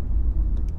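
Deep, steady exhaust rumble from a Mini John Cooper Works with 231 hp and a PRO exhaust, low and continuous throughout with a couple of faint higher blips near the end.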